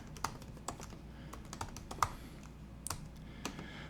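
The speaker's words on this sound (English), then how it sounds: "So when I'm typing these out" Quiet keystrokes on a computer keyboard tap out at an uneven pace, a handful of soft clicks with brief gaps between them, close by and with no talking.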